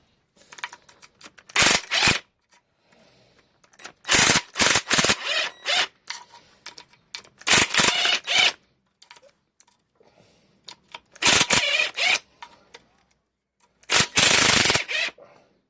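Short loud rattling bursts from an air impact gun undoing bolts on a 1.8T Mk2 VW Golf, about six hammering bursts separated by quiet gaps with faint workshop clatter, no talking.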